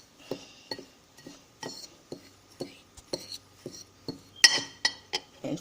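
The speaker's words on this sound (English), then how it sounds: "So I'm just going to mix that up a little bit." Spoon scraping and clinking against a glass bowl while stirring a coffee and brown sugar body scrub, a steady rhythm of soft gritty strokes with brighter chinks, close and alone.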